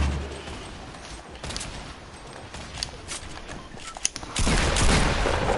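Grenade launcher shots in a first-person shooter, heard as a run of sharp bursts and pops over a noisy game mix, ending in a louder, denser blast of sound.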